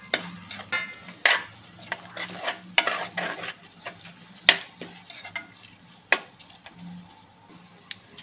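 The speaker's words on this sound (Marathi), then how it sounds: "बिर्याणी मसाला, लाल तिखट आणि जिरा पावडर हे सर्व मसाले आता आपल्याला कांद्यामध्ये परतून घ्यायचे आहेत" Biryani masala, red chilli powder and cumin powder sautéed into golden onions in a pan, with repeated scraping stir strokes and clinks of a spoon over a steady low sizzle, close and without any talking.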